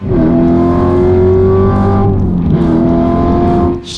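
A car accelerates hard, its engine loud and close with strong rising harmonic tones that hold steady through most of the run before easing off near the end.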